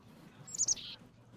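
A bird in the game Reverse: 1999 gives a short, clear chirp, two quick high tweets followed by a brief trill, fairly close and loud over a quiet, low ambient hum.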